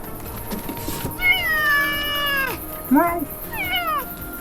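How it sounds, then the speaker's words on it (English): A cat meows several times close by in a home kitchen, with long drawn-out calls and a shorter chirp between them, over faint background noise. "Maybe Mo the cat will come in as well"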